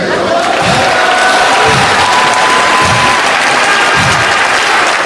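Broad, steady applause from a large crowd at a Ring of Honor professional wrestling event, filling the whole clip at close, loud level with scattered cheers mixed in.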